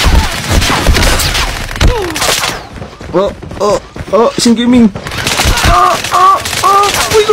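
Gunfire in a video game rattles off in rapid bursts and single shots, loud and close, mixed with excited Filipino talk from players.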